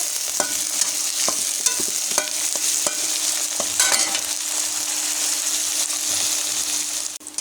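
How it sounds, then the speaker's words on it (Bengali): Sliced onions and large garlic pieces fry in a pan until browned, with a steady hiss under repeated sharp clicks and scrapes of a spatula stirring, close and fairly quiet. "তো এগুলো আমি লাল লাল করে ভেজে নেব।"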